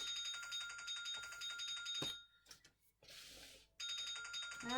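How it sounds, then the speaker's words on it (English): A telephone rings indoors in repeated electronic bursts, loud and steady, with a pause in the middle and a short hiss of other handling noise before the ringing resumes. "my phone's ringing, but it can ring"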